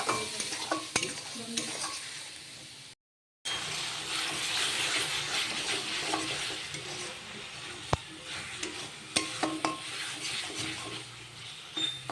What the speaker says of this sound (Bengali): তোমরা দেখতে পাচ্ছ মশলা থেকে তেল ছেড়ে দিয়েছে, মানে মশলাটা আমার ভাজা হয়ে গেছে